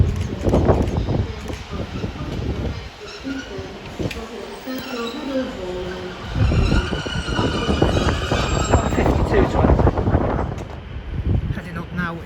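A Class 150 diesel train passes Doncaster station, a loud continuous rumble and wheel roar with buffeting wind across the microphone, swelling again toward the end.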